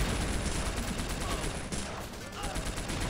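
Dense, continuous gunfire from the WWII strategy video game В тылу врага 2, with overlapping rapid shots forming a sustained loud barrage for the whole stretch.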